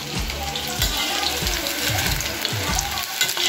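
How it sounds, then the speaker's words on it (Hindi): Paneer pieces fry in a kadhai with a steady, close, dense sizzle and repeated low bubbling pops, with no talk. "ऐसे ही हमें ये सारा पनीर फ्राई कर लेते हैं"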